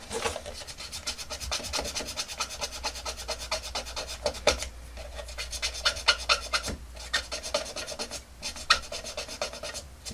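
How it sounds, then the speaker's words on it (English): A vintage Masters of the Universe Stridor toy figure being rubbed clean of marks, a steady close scratchy rubbing with rapid back-and-forth strokes continuing throughout with brief pauses. "rub that, you'll see that that removes it quite nicely"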